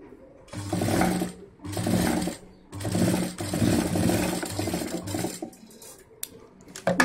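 Sewing machine stitching a fabric mobile cover, with several short bursts of rapid close mechanical whirring separated by brief pauses, followed by faint handling clicks.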